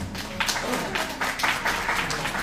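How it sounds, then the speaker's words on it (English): Audience applause at a Miss World appearance, a steady wash of clapping with louder bursts that holds throughout, fairly close and continuous, with no speech over it. "Let's all give them a big round of applause."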